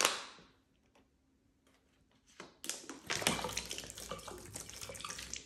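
Water pours from a bottle into a cup during a blindfolded cup-filling game: quiet handling sounds first, then a steady splashing pour that fills the rest of the stretch.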